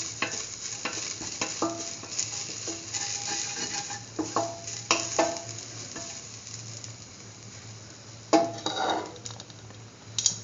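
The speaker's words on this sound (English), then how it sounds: "Thoroughly saute." A coconut and chickpea flour mixture sautés in a pan, steady sizzling broken by repeated scraping and clinking stirs of a utensil against the pan, close and fairly loud with no voices.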